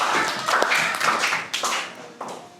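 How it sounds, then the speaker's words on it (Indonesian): Students in a class clap for group 8 during a quiz lesson, a brief burst of close, fairly loud applause that fades in uneven waves with a few trailing claps. "tepuk tangan buat kelompok 8 ya"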